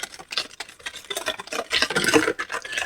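Dessert ingredients being worked by hand with a whisk for an economical sweet, a busy irregular stirring and scraping patter that builds louder toward the end.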